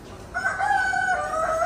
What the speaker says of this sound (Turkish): Çok güzel, çok iddialı bir Avustralop horozumuz var.